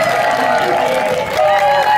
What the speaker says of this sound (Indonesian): Saya tepuk tangan deh untuk tim menjerit.